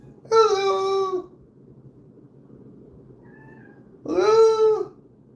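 Two drawn-out cat meows, close and clear, separated by a few seconds of quiet background hum.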